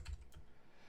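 Quiet typing of a terminal command on a computer keyboard, two soft key presses early on, then low room hum without further strokes.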